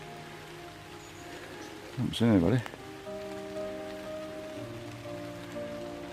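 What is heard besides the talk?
rain falling in mossy woods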